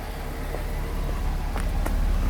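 A very quiet car engine idles smoothly in a low, steady rumble with no misfire, alongside faint background noise and a couple of small clicks.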